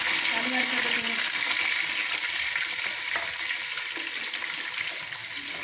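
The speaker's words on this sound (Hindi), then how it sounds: "इनका जब कलर सुनहरी हो जाएगा तब तक इनको फ्राई करना है।" Potatoes frying in hot oil, a loud, dense, continuous sizzle heard up close, with faint talking in the background.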